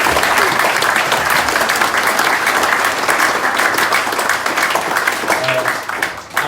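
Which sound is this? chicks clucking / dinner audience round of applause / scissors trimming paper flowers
dinner audience round of applause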